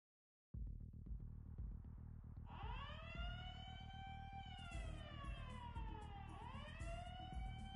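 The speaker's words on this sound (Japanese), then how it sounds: "なんだこの警報は。" Intruder alarm in Yakuza 2 wailing after a brief silence, a loud rising and falling siren tone that sweeps up and down repeatedly and continues steadily without pause.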